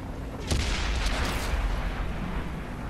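Artillery fire in the tank game World of Tanks: a deep booming shot about half a second in, then rumbling blasts that fade into steady battle noise.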